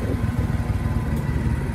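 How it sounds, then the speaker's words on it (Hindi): A motorbike's engine runs close by in a steady, low rumbling drone that stays even and fairly loud throughout, with no voices over it. "बाइक आ गया"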